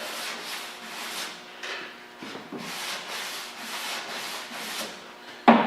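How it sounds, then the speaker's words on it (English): A 2008 GMC Sierra tailgate is hand-sanded across damaged spots in repeated rhythmic back-and-forth strokes, close and steady, ending with a sharp knock. "I'll cross sand that."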